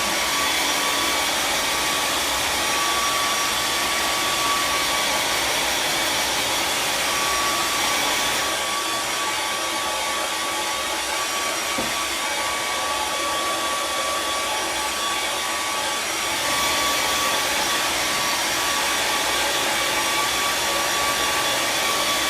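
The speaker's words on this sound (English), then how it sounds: "I'm going to get the blow dryer, and I'm going to start blow drying this step." A handheld blow dryer runs steadily over painted coneflowers, a close, continuous airy roar that holds at even loudness for the whole stretch, with no voices.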